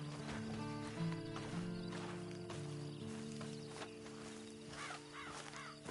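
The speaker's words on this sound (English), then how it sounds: "And you better get on this horse." Horse hooves clip-clopping under a steady tonal hum in a PS4 video game, with occasional whinny-like calls rising toward the end, all fairly quiet with no speech over it.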